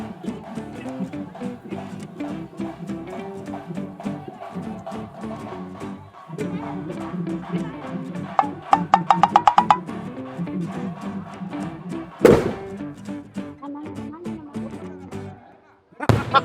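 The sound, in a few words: big firecracker exploding at a festival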